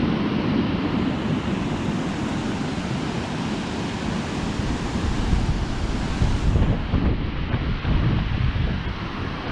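Strong wind blows on a riverbank while barbel fishing on the River Trent, a loud continuous rushing roar with gusty buffeting of the microphone that barely lets up across the whole stretch.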